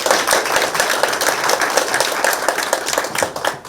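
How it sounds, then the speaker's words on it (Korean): Applause at a press briefing: a room of people clapping steadily and fairly loudly for several seconds, with no one speaking over it. "군수님 박수 한번 좀 부탁드리겠습니다"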